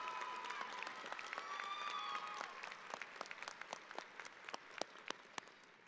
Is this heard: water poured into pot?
no